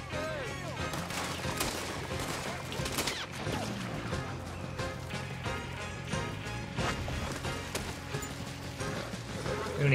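Gunfire from a Red Dead Redemption 2 shootout in Saint Denis, with shots cracking repeatedly over a dense, busy game mix that runs without pause.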